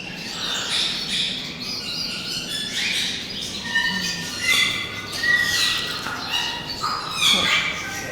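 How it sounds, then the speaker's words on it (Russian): A pair of Chinese noble parrots, a red-billed male and a grey female, give repeated sharp squawks and chirps at close range in a park at Peterhof, with a quiet voice faintly in the background. "здесь у нас живут китайские благородные попугаи"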